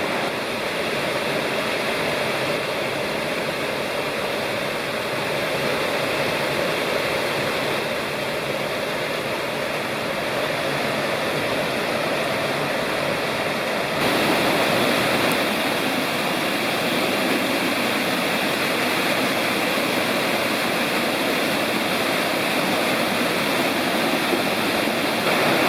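Citico Creek rushes past a trail crossing in a forest, a loud, steady, close-up roar of flowing water with no voices, continuous throughout.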